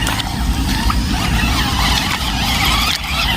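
Radio-controlled cars racing on a muddy off-road track, a dense continuous buzz of small electric motors with squealing and skidding tires, loud and close with no talking.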